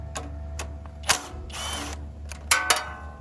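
A wrench works a 10mm bolt behind the air cleaner base of a cheap Valsi generator, giving a few short metallic ratcheting bursts and clicks up close, with brief scraping between them.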